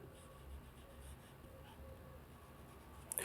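Pen or marker writing out a maths solution for a Class 10 arithmetic progression exercise, a faint continuous scratching and scribbling close by, with a brief louder tap near the end.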